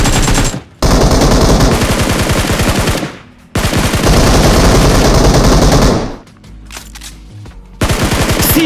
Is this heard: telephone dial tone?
no